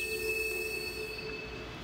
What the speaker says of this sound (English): we catch the train passing through a snow shed